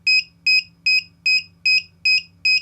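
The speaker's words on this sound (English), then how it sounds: "Just a plain beep" A homemade prank beeper circuit repeats a plain high-pitched electronic beep seven times in an even rapid rhythm, each beep a short double-pulsed tone, loud and close against a quiet low hum.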